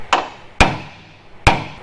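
A hammer drives a center punch into the steel frame of an old GMC truck being converted from 2WD to 4WD, three sharp metallic strikes at uneven intervals, each ringing briefly before fading, close and loud with no talk.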